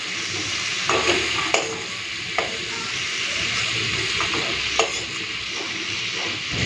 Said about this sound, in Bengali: চিংড়ি মাছগুলোকে লাল করে ভেজে নিয়েছি, তুলে নেবো।